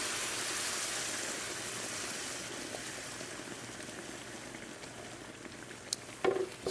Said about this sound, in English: I'm gonna take this and pour this right over the top of my meatballs